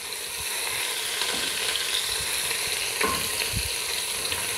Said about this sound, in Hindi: इसको हल्का हल्का मैं सौते करूँगी, ज़्यादा नहीं करूँगी क्योंकि चाइनीज़ में ज़्यादा भुना नहीं जाता